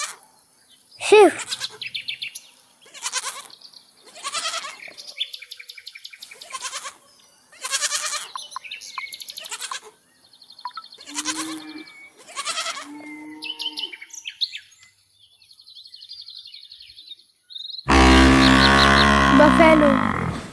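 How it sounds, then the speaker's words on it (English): Sheep bleat over and over in a quick run of separate calls, close and fairly loud, with short gaps between them. The last few seconds cut to a dense, noisy, different sound. "Sheep."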